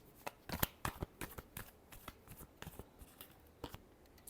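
Tarot cards being shuffled during a reading, a quick run of crisp riffling snaps and soft flutters at close range, irregular bursts with short pauses, no voices.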